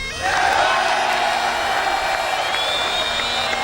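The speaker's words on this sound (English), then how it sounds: "A standing ovation from the crowd" A golf crowd at the 2009 Open Championship at Turnberry rises in a standing ovation, a dense sustained roar of cheering and clapping that swells quickly and holds loud throughout.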